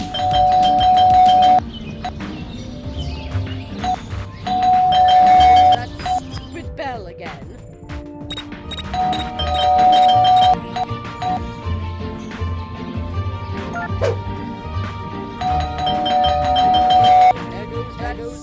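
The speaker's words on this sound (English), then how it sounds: "There goes that stupid bell again." A doorbell in the Scary Teacher 3D video game rings repeatedly in bright chiming bursts at intervals over a busy, loud game soundtrack with clattering effects.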